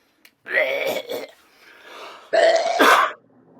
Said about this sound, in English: I just started to cough